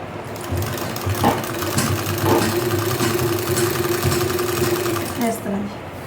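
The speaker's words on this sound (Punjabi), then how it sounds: "ਅੱਜ ਮੈਂ ਮੋਟਰ ਤੇ ਨਹੀਂ ਸੀਨ ਪੈਰਾਂ ਤੇ ਕੀਤੀ ਹੋਈ ਆ" A foot-operated treadle sewing machine running a seam on a shirt at a boutique, steady rhythmic whirring and clatter close by, with a person talking over it.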